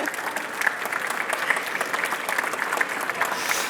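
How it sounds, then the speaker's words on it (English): A seated audience at an Accountex accounting event applauds after a talk: steady, dense clapping close by that runs throughout without a break. "I think that deserves a round of applause."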